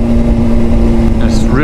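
A 2005 Honda CBR600RR motorcycle on the move gives a loud, steady engine drone blended with wind rush, rising in pitch near the end.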